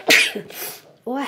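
One sharp, close sneeze from a woman, followed by a short breathy exhale and a brief voiced exclamation.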